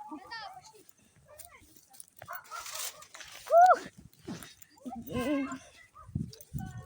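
A dog barks and whimpers in short bursts around a yard where people, including children, talk loudly over it.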